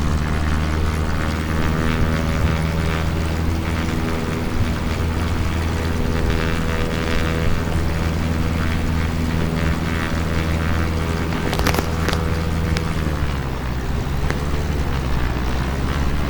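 Single-engine Cessna 172 propeller airplane climbing out after takeoff, its engine drone and prop hum steady and loud throughout, heard from inside the cabin with no talk.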